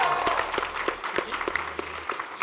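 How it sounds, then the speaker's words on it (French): Graduation-ceremony audience at the Lycée Français de Tananarive applauding a history-geography teacher: dense, steady clapping from many hands filling the hall, with faint voices mixed in. "Applaudissez-le."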